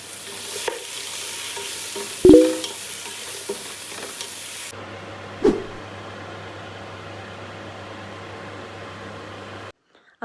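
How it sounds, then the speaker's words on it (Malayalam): Chicken frying in a pan gives off a steady, soft hiss of sizzling oil that keeps going in the background, broken by a couple of brief knocks and clatters, with no talking. "ചിക്കൻ ഫ്രൈ ചെയ്യാൻ വെച്ചു."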